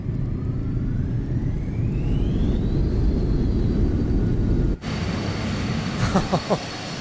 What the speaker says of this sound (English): That reverser spool was pretty sick.